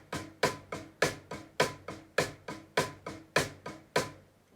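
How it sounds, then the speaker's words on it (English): Reverse double stroke roll on a drum, each pair of strokes putting the accent on the second note, giving an even, rapid run of crisp hits with a lopsided soft-loud pulse, close and alone. "reverse double stroke rolls, which is where the accent is placed on the second note of the double"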